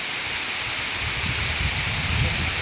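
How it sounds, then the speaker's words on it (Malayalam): Heavy rain pouring down outdoors in wind, a dense constant hiss with low rumbling gusts buffeting nearby, loud and unbroken throughout. "ഇവിടെ ഭയങ്കര മഴ"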